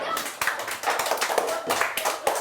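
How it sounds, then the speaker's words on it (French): A small group claps at a calabash-making workshop in an associations hall in Saint-Laurent-du-Maroni, irregular close hand claps in uneven bursts, with voices mixed in. "Applaudissez-vous."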